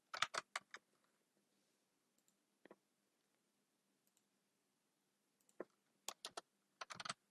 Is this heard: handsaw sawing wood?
no